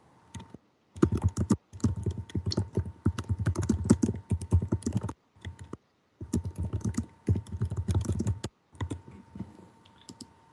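Rapid bursts of computer keyboard typing, close and fairly loud, coming in two long runs of clicking keystrokes separated by brief pauses, with no voices over it.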